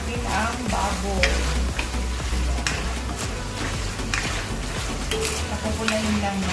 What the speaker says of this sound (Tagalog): Ito na, pinakotsa muna natin ang baboy.